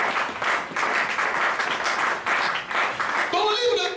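A church congregation applauds in loud, surging waves of clapping, rising and dipping over several seconds, with a voice cutting in near the end.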